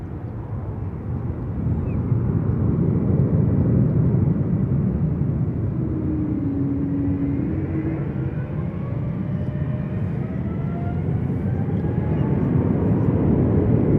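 A heavy jet airliner taking off from runway 28 left at San Francisco International Airport gives a loud, sustained roar and deep rumble that swells after the first seconds and holds steady, with a faint whining tone rising and falling over it.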